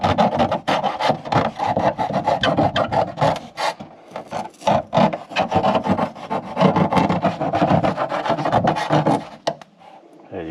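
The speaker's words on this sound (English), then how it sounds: "We get our knife and kind of trim that around." Knife trimming material around an opening while an air purifier is fitted into a home HVAC system, with loud, steady rasping and rubbing strokes that run almost continuously before stopping near the end.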